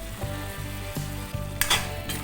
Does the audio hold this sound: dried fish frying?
yes